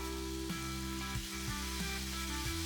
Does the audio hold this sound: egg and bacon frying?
yes